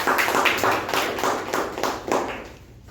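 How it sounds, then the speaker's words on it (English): A small group at a Toastmasters meeting claps in a short round, distinct hand claps coming in rough pulses that taper off toward the end. "With a bigger round of applause."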